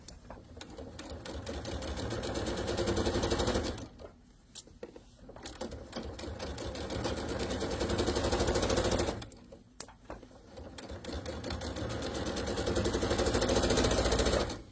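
Pillowcase seam being stitched on a sewing machine, a steady mechanical whir running in long bursts with two brief pauses between passes, close and fairly loud.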